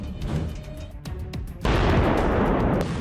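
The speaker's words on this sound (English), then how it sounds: "A massive barrage includes Royal Navy warships over 20 kilometers away, including huge 16-inch guns" Artillery barrage from Royal Navy warships with 16-inch guns and army field guns, scattered booming shots followed by a sudden loud sustained roar of fire, no talking.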